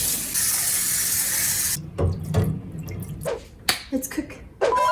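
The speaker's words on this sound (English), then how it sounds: "We're gonna use cold water to wash it again." Running cold tap water gushes loudly for a couple of seconds, then stops, followed by scattered splashes and clinks as potato is rinsed for Korean pork bone soup.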